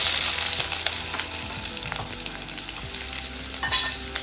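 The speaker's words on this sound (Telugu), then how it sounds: "దాంట్లోకి కట్ చేసి రెడీగా పెట్టుకున్న మిర్చి, తర్వాత ఆనియన్స్ని వేయించుకోవాలి." Chillies and onions fry loudly in hot oil, a dense close sizzle broken by frequent stirring clinks and scrapes of a utensil against the pan, with a brief louder burst near the end.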